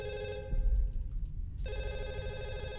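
A telephone rings inside the Fatal Midnight horror video game, a steady electronic ring that drops out briefly in the middle under a low rumble before resuming, with no talk.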